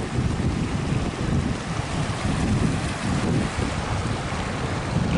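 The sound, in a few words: flowing stream with lots of water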